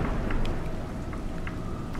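Steady rain hisses and patters continuously in a video game, with faint scattered drops standing out against the wash.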